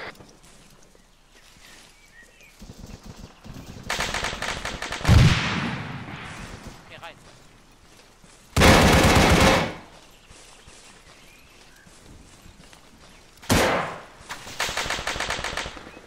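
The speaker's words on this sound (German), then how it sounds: "Beschuss von der Villa!" Bursts of automatic gunfire from a villa in the military shooter ArmA 3 crack out in several loud volleys separated by quieter gaps, with sustained rattling runs and a sharp single burst near the end.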